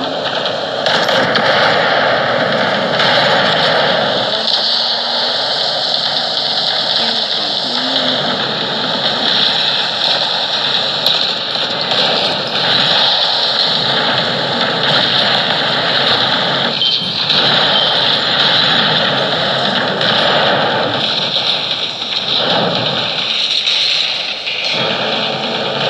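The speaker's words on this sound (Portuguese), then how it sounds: "Começou o tiroteio." Naval gunfire rattles through a boat battle in the mobile game Battle Bay, dense continuous bursts of automatic fire layered over engine drone, loud and unbroken for the whole stretch.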